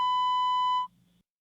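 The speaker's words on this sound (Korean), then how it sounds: "전원이 꺼져 있어 삐 소리 후 소리샘으로 연결되오며 통화료가 부과됩니다." A single steady electronic beep from a Korean phone voicemail system on an unanswered call, a clear pure tone lasting nearly a second, then a faint low hum trailing off into silence.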